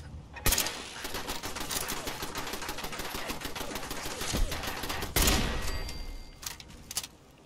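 Rapid bursts of gunfire from Fallout 4 in survival mode crackle through most of the stretch, dense automatic shots with a few sharper cracks standing out, moderately quiet and continuous.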